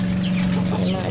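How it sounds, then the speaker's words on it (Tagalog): Backyard chickens, about 45 days old and raised for slaughter, cluck softly and close by in a short burst, mixed with a person talking. "Ayan mga chicken ko."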